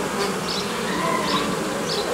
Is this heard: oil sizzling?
no